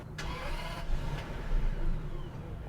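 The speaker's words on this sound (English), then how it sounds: "And let's start the engine." A late-1990s Toyota Century's V12 engine cranks briefly and catches, then settles into a smooth, low, quiet rumble close by, with no voices.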